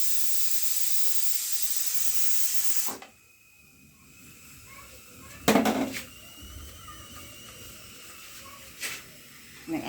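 A pressure cooker lets out a steady, loud hiss of steam for about three seconds, then cuts off sharply. A few clanks and knocks from pots follow at a distance.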